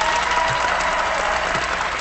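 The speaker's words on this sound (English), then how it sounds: "Here's the applause." Studio audience applauding steadily throughout at a live web talk show, a dense, even wash of clapping with faint voices mixed underneath.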